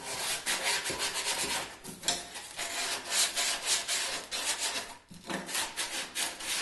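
Folded sandpaper rubs briskly against the inner wooden edges of a cajon kit in rapid back-and-forth strokes, a close, steady scratchy rasp with brief pauses between passes.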